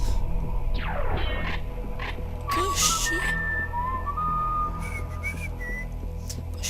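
Whistling sounds inside the first-person shooter Serious Sam Classic: sliding and sustained pitched whistles with a descending swoop early on, over a droning game background hum and music, fairly loud.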